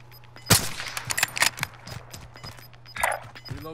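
Gunfire in Call of Duty Warzone, with a loud sharp shot up close followed by a scattered run of quicker, fainter reports over a steady low hum, then another burst near the end.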